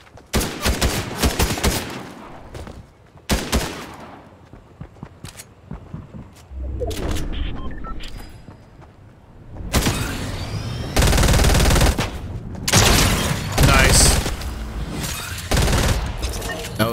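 Fortnite gunfire comes in loud bursts and rapid volleys, with sharp single shots between them and heavier sustained firing later, while players talk in between.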